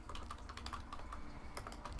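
Rapid, steady clatter of keys on a computer keyboard, close and continuous, with no voices.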